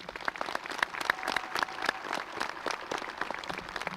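Crowd applause at a class of 2025 graduation ceremony for the graduates: dense, steady clapping from many hands sustained throughout, moderately distant and without speech.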